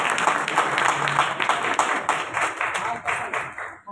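A church congregation claps slowly and steadily in a rhythmic pattern, with many hands striking together on each beat while voices murmur underneath.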